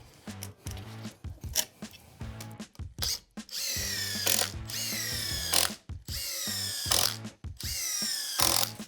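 A power drill drives screws into 2x4 lumber while a potting bench is built, in repeated whirring bursts that rise as each screw seats. Short pauses separate the runs, and the sound is close and fairly loud with no talking.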